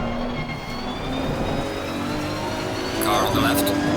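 Race car engine in Assetto Corsa Competizione at Suzuka, a loud steady high-revving drone from the cockpit with rising gear pitch, a brief shift or surge near the end, under a talking voice.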